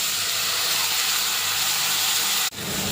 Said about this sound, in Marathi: धुवून कापून घेतलेले दोडका तेलामध्ये छान पण दोडका परतून घ्यायचा आहे